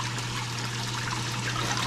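Water pours steadily into a fish acclimation container at a pond, a continuous close trickling wash over a low hum, with no voices.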